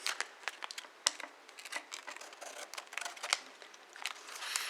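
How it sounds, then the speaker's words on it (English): Scissors cutting paper for an origami craft, a series of quiet close snips and crinkles in an irregular rhythm, with no talking. "you're going to take your scissors"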